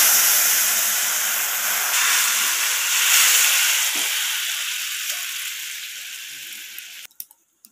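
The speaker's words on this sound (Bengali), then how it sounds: "ফোড়নটা একটু ভাজা ভাজা হয়ে গেছে, তো ফোড়নটার মধ্যে আমি এরপর দিয়ে দেব যে ঝোলটাকে আমি নামিয়ে রেখেছিলাম" Set-aside gravy goes into a pan of sizzling fried tempering, a loud hissing burst of steam and frying that slowly fades, followed by a few sharp clinks of a utensil at the very end.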